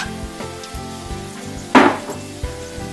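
Onion, cumin and chopped garlic sizzle in a frying pan, a close, steady crackle with a few sharp clanks and one loud burst partway through, no one speaking.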